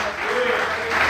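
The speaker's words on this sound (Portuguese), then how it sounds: "Aplauda o Senhor bem forte." A church congregation claps loudly and steadily through a short burst of applause in praise, with voices mixed in under the clapping.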